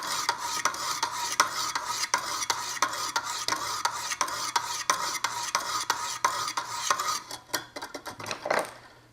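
A knife blade scraped on a 200 grit stone in a Wicked Edge sharpener, in a fast, even series of close, gritty strokes that stays steady for most of the clip, then turns into a few slower, irregular scrapes, with no talking.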